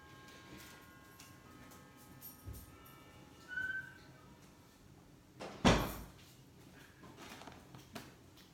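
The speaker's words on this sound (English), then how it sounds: "Let me close the door, David." A door shuts with one sharp, close thump midway through an otherwise quiet indoor room, preceded by faint shuffling and a few small knocks.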